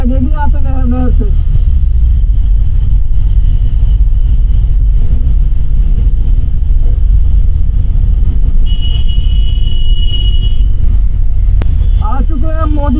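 Heavy road traffic in Modinagar heard while riding a motorbike on a winter highway trip, a loud unbroken roar of wind and engine rumble with a high tone midway and a voice heard briefly at the start and end.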